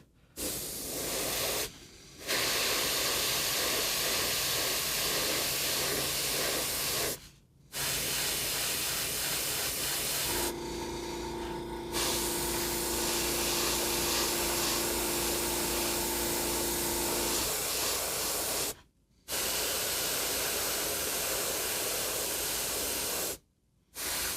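An airbrush sprays contrast paint in soft continuous hissing bursts, several long passes broken by brief pauses, with a steady airy rush and a faint compressor-like hum during one stretch, close and quiet with no talking.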